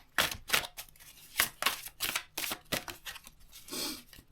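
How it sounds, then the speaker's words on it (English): Oversized, extra-large cards being shuffled by hand, producing quick papery riffles and soft slaps in irregular bursts, close and fairly quiet, with no talking. "These ginormous cards are so hard to shuffle"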